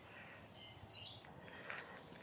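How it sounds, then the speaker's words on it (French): Small birds chirp along the wooded bank of the Moselle river, a brief cluster of high, thin tweets over quiet outdoor ambience, faint and distant. "Là, vous entendez les petits oiseaux"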